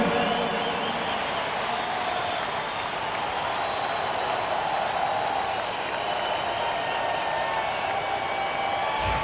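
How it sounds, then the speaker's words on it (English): A dense arena crowd in the NBA 2K25 basketball game applauds and cheers at an NBA game between the Golden State Warriors and Chicago Bulls, a steady wash of clapping and crowd noise that holds loud and even throughout. "One more big round of applause, fans."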